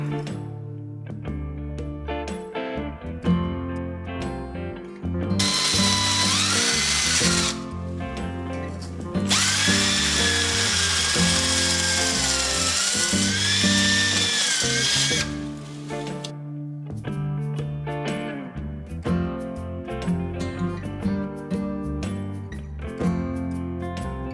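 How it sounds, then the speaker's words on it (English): A power drill bores a hole for a yarn pumpkin, whining in loud sustained bursts with a revving pitch, broken by short pauses and handling clatter, close by with no talking. "After I had my hole drilled"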